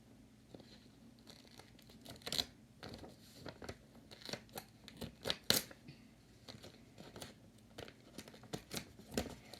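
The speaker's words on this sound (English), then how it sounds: "Then you're gonna cut it, the extra." Scissors snip away excess material while a purse is being assembled in a craft room, producing quiet, irregular cuts and crinkly rustles with a few sharper snaps, heard up close and alone without talk.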